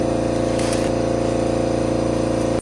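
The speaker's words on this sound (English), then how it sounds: "Sorry about that noise. That was our air compressor," An air compressor runs continuously and fairly loud, a steady mechanical drone with a strong low hum and regular pulsing, with no voices.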